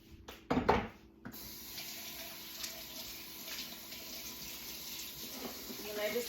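Hot water runs steadily from a kitchen tap while Nama juicer parts are washed, a soft continuous hiss after a few louder clunks and splashes at the start.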